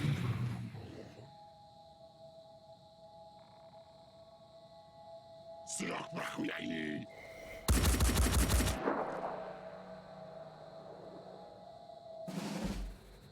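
Gunfire in the Phoenix Point video game: sharp bursts of shots cut through a quiet tonal game ambience, one cluster near the middle, a louder heavy volley after it and another burst near the end.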